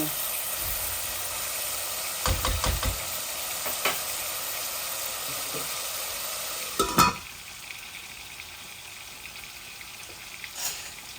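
Onions frying in a pan for a Bangladeshi pangas fish curry, a steady broadband sizzle with a few stirring clatters, moderately close and continuous throughout.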